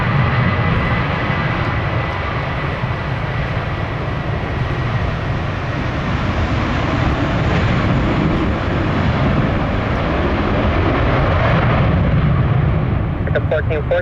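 Jet airliner engines roar loudly and continuously close by at Orlando International Airport on a windy day, a broad sustained rumble that swells slightly midway, with brief clicking near the end.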